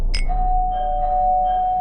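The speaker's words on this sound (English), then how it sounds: "the doorbell rang again" A house doorbell rings on an October night, one bright chime followed by a clear tone that lingers and fades. It sounds close and stands alone.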